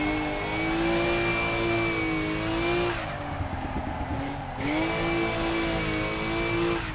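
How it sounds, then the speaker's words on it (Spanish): A car engine revs steadily while drifting in a racing video game, a loud sustained mid-pitched drone with slight pitch swells, dipping briefly midway before climbing back to full revs. "qué bien va este coche, chavales."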